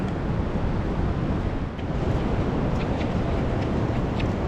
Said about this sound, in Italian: Ma Betty, e del rumore del mare cosa diciamo? Che è costante, continuo e assordante.